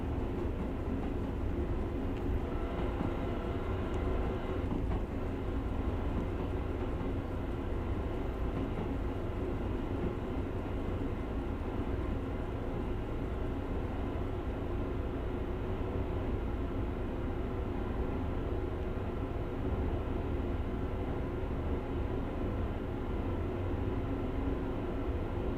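A Long Island Rail Road train in Train Sim World rumbles steadily as it slows between Hempstead and New York, a continuous low rolling drone with a faint hum, heard without voices.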